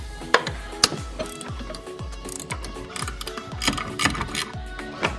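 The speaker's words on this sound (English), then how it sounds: "I'm going to try a ratcheting wrench right here." A ratcheting wrench turns 13mm bolts holding the AC compressor on a BMW E90 with the N54 engine, producing rapid, rhythmic clicking bursts of metallic ticks up close.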